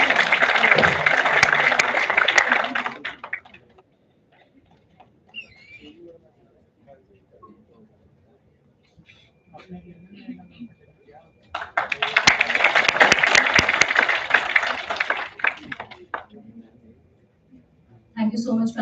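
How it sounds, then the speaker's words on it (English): Audience applause at a national seminar comes in two bursts of steady clapping, each a few seconds long, separated by a quiet stretch with faint room sounds and a little talk. "Let's have a huge round of applause for her."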